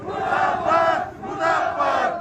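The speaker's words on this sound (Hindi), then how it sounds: "विधायक मुर्दाबाद के नारे लगाए जा रहे हैं" Crowd of protesters outside an MLA's residence loudly chanting slogans in unison, rising and falling in repeated rhythmic waves, with no separate talk.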